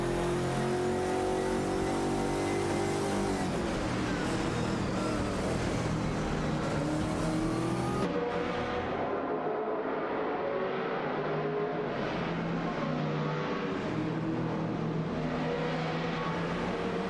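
Several race cars, a Porsche 911 GT2 among them, roar around a circuit at full throttle, their engines droning and climbing in pitch as they pass. The sound is loud and continuous, and one car sweeps by near the eight-second mark.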